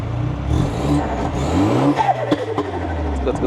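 A BMW 220i with a 2.0-litre N20 turbocharged four-cylinder, Stage 2 tuned and with Valvetronic switched off, revs up from idle in a rising, throaty surge, then settles back, with a few sharp clicks and a voice nearby.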